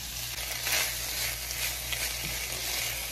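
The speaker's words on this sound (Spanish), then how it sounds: "Aquí vamos a seguir meneando para que se fría bien la cebolla y el chile." Onion and chili frying in a pan while being stirred, a steady loud close sizzle with soft scraping swirls rising and falling throughout, no voices.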